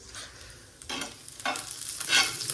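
Onion roasting in a pan crackles softly as a small spoon stirs it in a few scraping sweeps, close and fairly quiet, with no talk.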